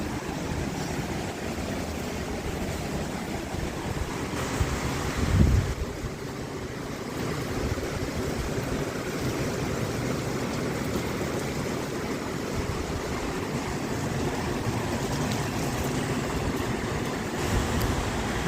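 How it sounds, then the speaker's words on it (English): Ocean waves break on Daytona Beach in a continuous wash of surf, heavy wind noise buffeting the microphone throughout, with one brief louder gust partway through and no voices. "Pretty great waves."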